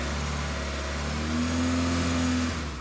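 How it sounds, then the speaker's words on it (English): Ford Escort Mk3 engine, noted for a ruined cylinder head, revs up from idle in a garage, a steady mechanical drone rising into a sustained higher-pitched hum before easing off. "And when I revved it just then"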